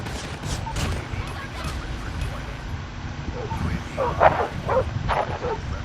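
An attack dog barks in short sharp bursts amid Call of Duty Mobile game noise and scattered gunfire, with voices talking over the action.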